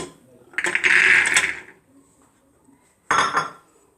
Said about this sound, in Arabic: غادي نجيب هنا الكوكوط، غادي نديرو فيها هاد الحمص